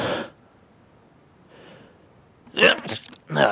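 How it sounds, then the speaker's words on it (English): A person sneezes close to the microphone: a brief sharp burst at the start, then two louder explosive bursts near the end, with quiet breathing in between. "And now I have to sneeze."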